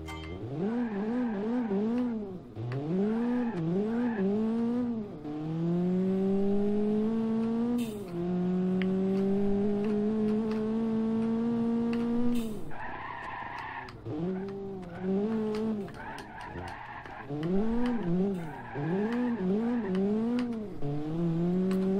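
The Covert Special, gravel-tune version with its track engine, drives over bumps in BeamNG.Drive, the engine note rising and dipping in repeated revving swells with brief tire scrubs as the car bounces along.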